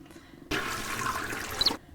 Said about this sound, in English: I'm gonna go ahead and flush this.